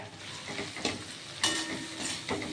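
Ground spices with five-spice and nigella seeds sizzle steadily in hot oil for a pea ghugni, broken by a few sharper crackles and scraping stirs.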